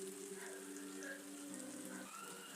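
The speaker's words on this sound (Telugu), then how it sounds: "ఇప్పుడైతే కొంచెం కర్రీలో వాటర్ వేసేసి ఉడకబెట్టేశాను" Water poured into a chicken drumstick curry in a pot, a steady close splashing gush that runs continuously for a couple of seconds, fairly quiet, with no talk.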